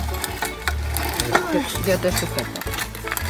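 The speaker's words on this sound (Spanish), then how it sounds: "Vamos a moler cacao." Cacao beans ground in a hand mill, giving a close, rhythmic mechanical grinding and ratcheting under a person talking.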